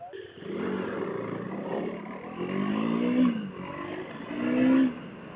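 A KTM 390 Duke motorcycle engine revs up in two or three rising surges, with rough, throaty roars swelling and falling back to idle. The sound is close and fairly loud, with no talk.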